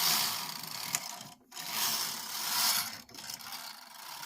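The main carriage of a Brother KH950i knitting machine slides across the needle bed with a close, steady mechanical whirring rattle, broken by two brief pauses where the stroke changes.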